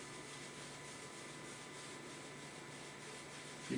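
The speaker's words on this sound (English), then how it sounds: "You can hear me rubbing, but I'm not pushing super hard" Steady, faint dry rubbing of toning paint worked in circles onto a canvas for an oil painting, a continuous soft scrubbing texture with no speech.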